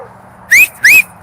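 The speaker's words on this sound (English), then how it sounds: "I'm going to whistle." A person whistling two short, loud, sharp rising whistle blasts in quick succession, close up against a quiet background.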